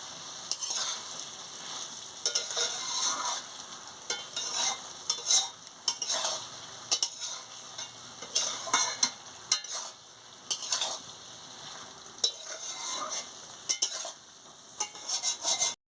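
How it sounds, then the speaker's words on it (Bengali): Papaya and mixed vegetables with coriander leaves are stir-fried in a pan for a Bengali papaya ghonto, giving a close sizzling hiss broken by frequent spatula scrapes and metallic clinks throughout. "আনাজটাকে ভালো করে কষিয়ে নিচ্ছি"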